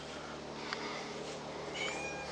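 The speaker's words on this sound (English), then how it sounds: "the hobo cat is guarding the door" A hobo house cat meows near a door indoors at night, one short call standing out against steady low room noise with faint higher cries, no talking.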